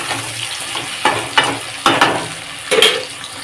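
Chicken with tomato, garam masala and spices frying loudly in a pan, a steady sizzle broken by several scraping stirs of a spatula, close up.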